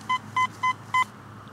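A metal detector sounds four short, evenly spaced electronic beeps over a deep buried target, steady and clear above a low background hum.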